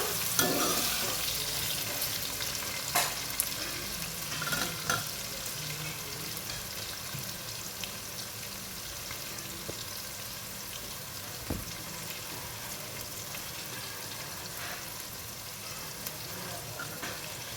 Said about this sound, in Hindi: प्याज को मिक्स करने के बाद दोस्तों, इसको ब्राउन होने तक के लिए छोड़ देंगे